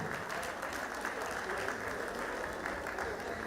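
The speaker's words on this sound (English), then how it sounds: "Can you give them all rounds of applause? Make it louder. Make it resounding." Steady applause from a crowd at a priest's 50th birthday celebration, dense clapping sustained throughout at moderate loudness with no pauses.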